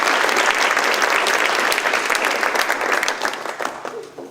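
Applause from a room of people at a monthly citizen award ceremony, a dense, steady burst of clapping heard alone that thins and fades out over a few seconds.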